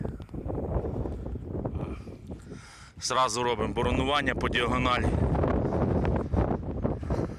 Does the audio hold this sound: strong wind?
yes